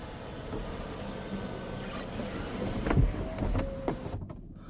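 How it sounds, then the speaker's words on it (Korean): A panoramic sunroof motor on a Kia K7 3.0 LPI luxury sedan opening, a low steady electric whir inside the cabin with a few clicks and a rising hum near the end, then stopping. "파노라마 선루프 있습니다. 열어볼게요."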